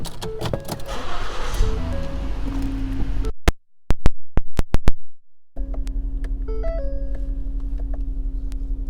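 Power windows on a 2013 Ford Edge whir up and down in several short electric motor runs, separated by clicks and thumps, with a steady low hum of the idling car beneath.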